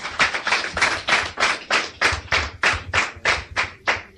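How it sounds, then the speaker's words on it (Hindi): Audience clapping for a guest at a talk, a rhythmic burst of hand claps at a steady beat, loud and close with no voices over it. "ताली बजाने इनके लिए"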